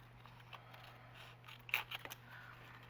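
Scissors snipping through paper pieces for a collaged scrapbook pocket flip, a few quiet crisp cuts clustered near the end over a low steady hum.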